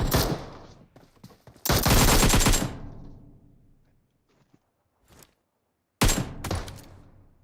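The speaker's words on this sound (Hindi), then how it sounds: "अपने को यही एकेएम चलानी पड़ेगी" AKM assault rifle fire in PUBG Mobile crackles in sharp automatic bursts, a long loud burst followed by scattered shots and another burst near the end, with quiet gaps between.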